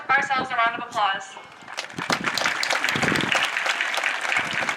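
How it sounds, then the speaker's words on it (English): At a 2019 high school graduation ceremony, a speaker's amplified voice gives way to the graduating class applauding themselves, a broad wash of clapping that rises after a short pause and continues steadily. "Let's give ourselves a round of applause."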